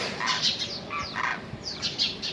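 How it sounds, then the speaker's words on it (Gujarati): Demoiselle cranes fly over in the morning, giving a series of faint rising trumpeting calls that overlap, heard from a distance in open countryside. "સવારના પોરમાં એ કુંજું જાય છે"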